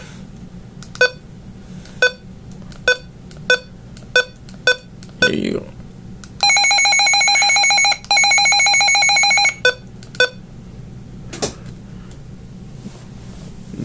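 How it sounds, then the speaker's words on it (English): A Midland HH54 handheld weather radio sounds its alert test: a series of sharp single beeps, then a loud continuous pulsing alarm tone in two long bursts, followed by more beeps, close and loud, with a brief spoken remark. "let's test the alert now"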